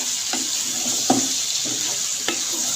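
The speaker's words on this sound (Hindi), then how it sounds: "यहाँ पे मैं इसको पहले अच्छे से मिक्स कर लेती हूँ" Salt being stirred into potato karahi in a pan; three or four short scraping strokes sound close over a soft background sizzle, with no talk.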